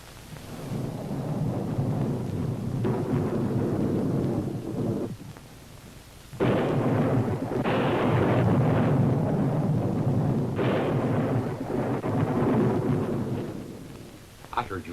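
Heavy thunderstorm with rolling, rumbling thunder over steady rain, with several loud booming surges and a brief quieter lull partway through.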